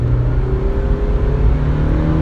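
A naturally aspirated Mazda MX-5 NB roadster of about 110 horsepower accelerates from inside the cabin, its steady engine drone rising in pitch through the revs, loud and continuous with no voices.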